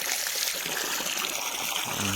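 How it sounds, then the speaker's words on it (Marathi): Water fills a container for farm workers at an onion farm, a steady close rushing trickle that runs continuously and evenly without pause. "पाणी भरतोय गड्यांना"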